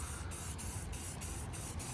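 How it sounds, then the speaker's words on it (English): Spray paint hisses steadily from an aerosol can outdoors in the sun, coating parts of a Carolina Skiff J14 boat, with several brief gaps where the nozzle pauses, close and fairly loud throughout. "then I might as well just spray it all"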